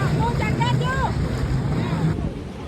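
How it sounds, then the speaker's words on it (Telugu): A fast speedboat ride on the sea at a Thailand beach, with steady engine and water rush under heavy wind buffeting on the microphone, and voices calling out over the noise. "బోట్ షికార్లు అన్ని చేయొచ్చు. సో నేను చూడండి షికార్ చేస్తున్నాను, చాలా స్పీడ్ గా తీసుకెళ్తాడు"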